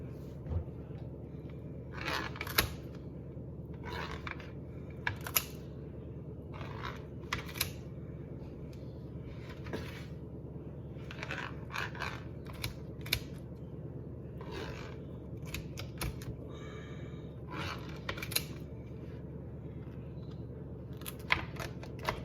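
Kitchen scissors snip through the crisp crust ends of a Sicilian-style pizza, giving a quiet series of scattered crunchy cuts and clicks over low room noise.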